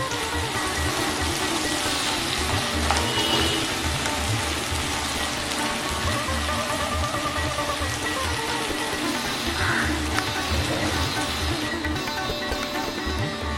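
Sliced onions frying over low to medium heat while being stirred in a pan, giving a steady, close sizzle with broadband crackle and no talk throughout.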